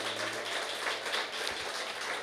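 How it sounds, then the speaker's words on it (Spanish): Church congregation clapping for the Lord, a faint, steady wash of many hands applauding in a large room, with no voices standing out. "Dele palmas al Señor."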